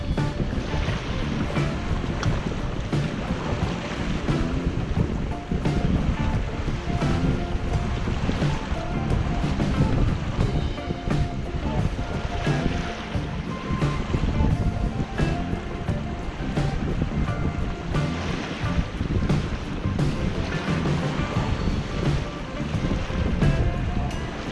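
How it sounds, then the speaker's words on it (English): A sailboat running downwind with its spinnaker up on flat seas, with steady wind rushing across the microphone and waves washing along the hull in a continuous, loud, close wash. "Sailing in flat seas with wind from behind you, with the spinnaker up, it's just a great sail right here."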